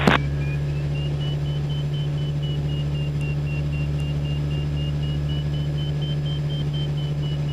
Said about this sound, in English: Just an airplane.